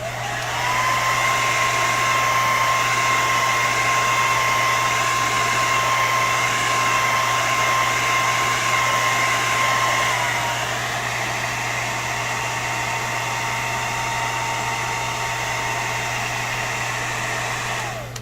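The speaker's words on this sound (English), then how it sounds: "Hair dryer time." A handheld hair dryer runs continuously for about eighteen seconds while drying a ghoul neck and chest pattern, a loud, even whooshing drone with a steady motor hum, its pitch dipping slightly partway through.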